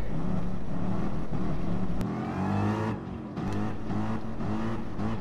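A Mercedes Group 3 race car in a racing video game, its engine howling loudly and steadily, dropping briefly as it shifts gears before climbing again, with no voices.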